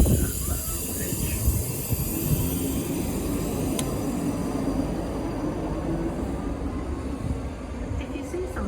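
A South Western Railway train at Queenstown Road Battersea station, a steady low rumble that holds throughout with faint high squeals above it and a voice speaking over the noise.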